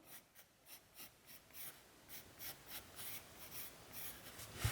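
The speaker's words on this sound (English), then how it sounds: "I am going to start by sketching out the drawing using pencil" A pencil sketches on paper with a rhythmic series of soft scratchy strokes, about two per second, faint and close with no talk.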